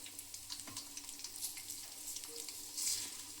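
Urad dal, chana dal and cumin sizzle gently in hot oil for a coriander chutney, a faint, soft, continuous crackle and hiss close by with no talking.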